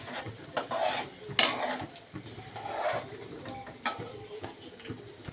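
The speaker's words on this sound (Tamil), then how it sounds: "இப்போ கிளறி விட்டுக்கோங்க." About fifteen shallots and fifteen garlic cloves are being stirred in a pan for appalam kuzhambu. A spoon scrapes and clinks against the metal in irregular strokes at a quiet, close level, over a faint background sizzle.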